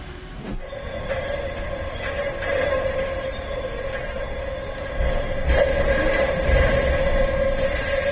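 A train rolls along the rails with a loud, steady rumble and a sustained metallic drone, growing heavier midway as the cars keep passing close by.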